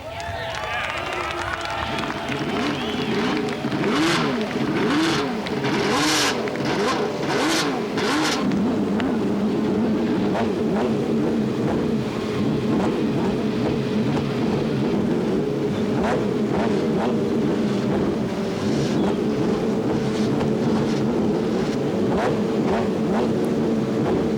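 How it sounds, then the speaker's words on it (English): IndyCar race car engines at the 1990 Marlboro Grand Prix fire up and run, rising revs layered over a steady massed drone from many cars close by, with faint crowd noise behind. "The engines are fired up and the best IndyCar drivers in the world are ready to race"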